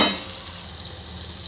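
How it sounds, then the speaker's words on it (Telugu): Onions, green chillies, curry leaves and tomato frying in a pan for a fish curry, giving a soft steady sizzle with a louder burst at the start and no talk. "దీంట్లోకి అయితే టమాటా కూడా వేసేసుకుంటున్నాను నేను."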